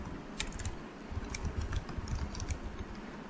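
Fast, steady typing on a computer keyboard at close range, with quiet, dense clicks continuing throughout and no voices.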